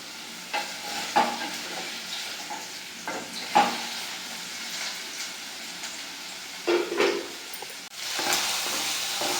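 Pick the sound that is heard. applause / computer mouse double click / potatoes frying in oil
potatoes frying in oil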